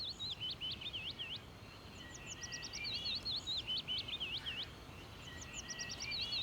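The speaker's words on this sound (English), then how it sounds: "Why do I hear birds all of a sudden?" Birds chirping outside: a small songbird repeats quick, high, looping whistled phrases in bursts, fairly clear over a soft, steady outdoor hiss, with fainter answering chirps in the background.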